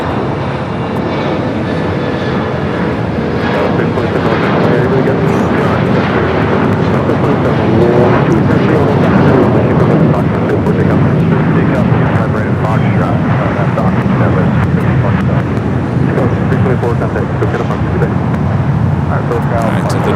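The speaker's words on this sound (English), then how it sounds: "Air France Flight 20 coming from Paris" An Air France airliner on flight 20 from Paris comes in to land at Los Angeles International, its engines making a loud, steady roar that fills the whole stretch, with voices talking over it.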